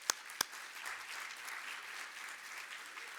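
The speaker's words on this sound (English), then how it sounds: "Could we give them a round of applause?" A seated audience at a Healing Generations event in Utah applauds the GenerationAll team, a steady wash of clapping that follows two sharp near claps and holds evenly throughout.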